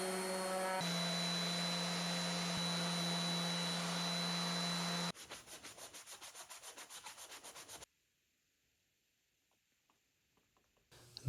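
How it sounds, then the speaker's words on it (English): Sanding the corners of a wooden standing lamp to a rounded radius gives a steady, loud rubbing hum for about five seconds, then a rhythmic back-and-forth scrubbing, before falling nearly silent. "the next step is to smooth out the corners and give them a nice radius."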